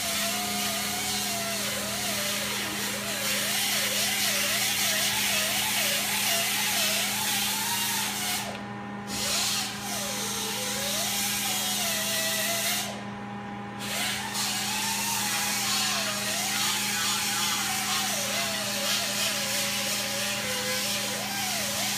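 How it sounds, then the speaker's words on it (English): A shop vac runs steadily and loudly throughout, a constant motor whine with a wavering whistle riding over it, dipping briefly twice. "Here it is. Shop vac."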